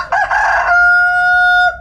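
A hen near her laying nest gives a single loud, close call, starting as a rough squawk and settling into a drawn-out, clear tone that holds for over a second before cutting off.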